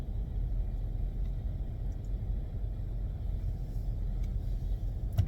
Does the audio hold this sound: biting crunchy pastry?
no